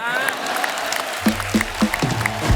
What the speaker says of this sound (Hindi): माता पिता के लिए जोरदार तालियां।